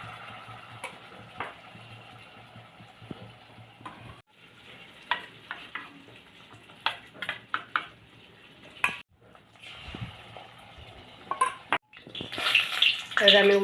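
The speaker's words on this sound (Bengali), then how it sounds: "তো ভাজার জন্য দিয়ে দিচ্ছি।" Batter-coated eggs frying in hot oil in a wok for egg chilli, a steady soft sizzle with scattered clicks and stirring taps, rising into louder crackling near the end.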